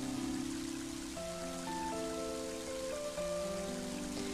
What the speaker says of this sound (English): it suddenly started pouring rain